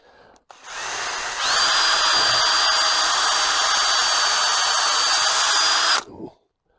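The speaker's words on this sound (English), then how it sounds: "I'll drill this" A power drill bores into a squared-up piece of timber, whirring loud and steady for about five seconds before spinning down and stopping, heard alone up close.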